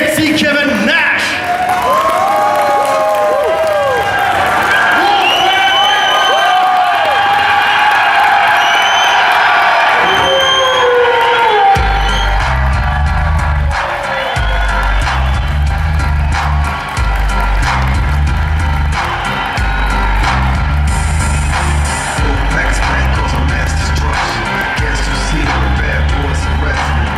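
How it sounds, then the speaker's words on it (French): Crowd cheering, whooping and yelling for guest Kevin Nash at the Paris Manga Sci-Fi Show convention, loud and sustained, with heavy rhythmic music thumping in underneath from the midpoint. "je vous demande un tonnerre d'applaudissements pour notre guest, Big Sexy Kevin Nash"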